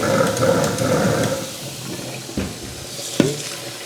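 Tap water runs steadily into a pot of rice for about two seconds, then cuts off, followed by a few sharp clinks and knocks of kitchenware.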